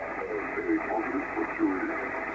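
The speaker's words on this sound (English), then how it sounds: "Bit noisy out there, unfortunately, on the band tonight." Steady hiss and crackle of a Yaesu FT101ZD shortwave receiver tuned to a noisy band at night, with faint warbling tones drifting through the static.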